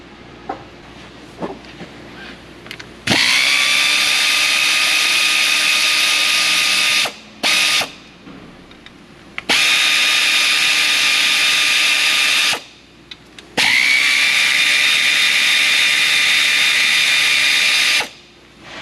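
Valve body bolts on a 2021 Hyundai Tucson are removed with a power tool, which whirs in three loud sustained runs of several seconds each, separated by short gaps and faint clicks, with no talking.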